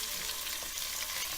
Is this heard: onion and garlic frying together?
yes